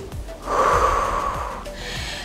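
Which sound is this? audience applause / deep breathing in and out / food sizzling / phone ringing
deep breathing in and out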